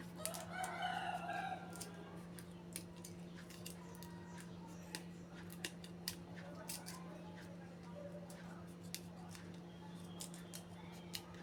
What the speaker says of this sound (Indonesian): kita gunting menyerong seperti ini